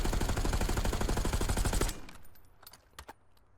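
A video-game gun fitted with a recoil springs attachment fires a rapid automatic burst for about two seconds, loud and rhythmic, then stops, leaving faint clicks and quiet background.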